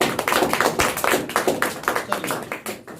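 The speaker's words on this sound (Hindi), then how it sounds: "ताली बजाओ" Students in a classroom clap for a classmate, a quick, slightly uneven patter of many hands close by, moderately loud and continuing for several seconds.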